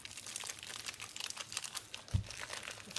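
A vacuum-sealed plastic bag of cheese opened with scissors gives a steady run of close, quiet crinkling and rustling plastic, with a brief low knock partway through and no voices.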